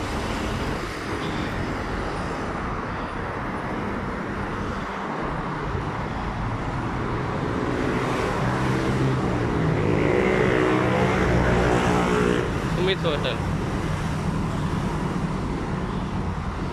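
Steady road traffic in Malaysia, a continuous wash of passing cars and heavier vehicles, with one vehicle growing louder as it passes near, while a voice speaks briefly.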